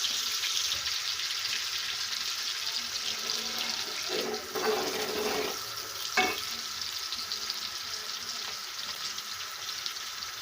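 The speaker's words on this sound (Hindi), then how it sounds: "हमारी प्याज जो है वो ब्राउन हो रही है" Onions browning in a pan for khichdi give a steady, close broadband sizzle that runs the whole time, with a couple of brief clatters partway through and no talking.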